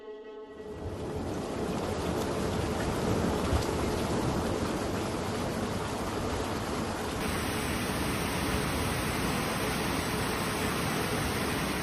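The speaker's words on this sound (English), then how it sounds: "torrential rains fell from July 26th" Torrential rain pouring down in Hunan province, a dense steady roar of broadband noise that holds at an even, loud level throughout with no voices.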